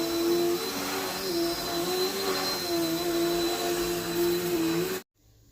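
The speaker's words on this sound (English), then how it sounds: "I love the sound of that vacuum." A small vacuum cleaner runs with a steady, wavering whir for about five seconds, then cuts off abruptly into near silence.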